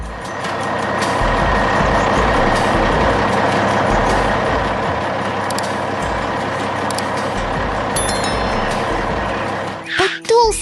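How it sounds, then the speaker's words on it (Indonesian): Large garbage truck in a 3D construction animation, its engine droning steadily and loudly throughout. Brief mechanical clanks and rattles sound near the end. "Sekarang truk sampah besar datang membawa material."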